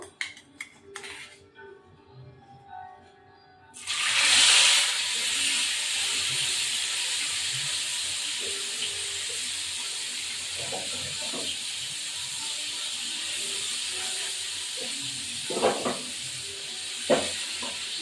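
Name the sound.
parshe and katla fish frying in a pan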